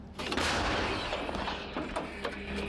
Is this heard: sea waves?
no